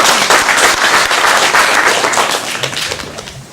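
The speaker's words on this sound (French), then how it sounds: "On l'applaudit très très fort." Loud, sustained applause from a conference audience for a speaker introduced as president of the ethics and governance commission at the CGEM, dense clapping that thins and fades toward the end.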